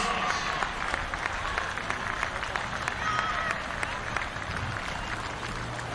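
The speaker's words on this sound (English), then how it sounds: "Let's give both sets of teams and both clubs a warm round of applause." A crowd at a football grand final between South Melbourne and Oakleigh Cannons applauds steadily, a dense wash of clapping with a few cheers, heard from some distance throughout.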